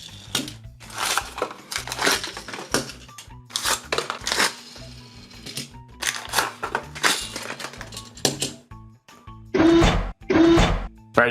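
A paper bag being ripped open up close: paper crinkling and tearing in irregular bursts of rustling and ripping, with brief pauses between.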